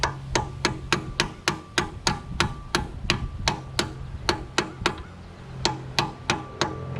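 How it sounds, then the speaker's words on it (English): Steady hammer strikes drive a pin out of equipment using a socket as a drift, about twenty sharp metallic blows at a regular rhythm with a short pause partway through, close and loud. "I've been just using a socket to hammer out the pin, and the pin is removing the retainer itself."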